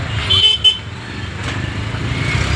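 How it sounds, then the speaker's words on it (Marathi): Busy road traffic in Shirdi at school closing time, with engines rumbling steadily and a couple of short car horn toots near the start. "फुल ट्रॅफिक."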